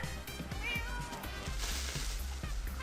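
A cat meows several times in quick succession over a busy background of Minecraft game sounds, fairly loud and close.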